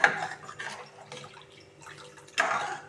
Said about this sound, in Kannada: ನಾನೊಂದು ಐದಾರು ಲೋಟ ನೀರು ಹಾಕಿದ್ದೀನಿ ಈ ಥರ ಸೇರಿಸ್ಕೊಂಡು